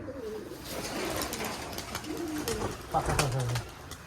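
Giribaz pigeons on a pigeon farm coo softly in low, repeated phrases amid chirps and movement noise, while people talk over them throughout.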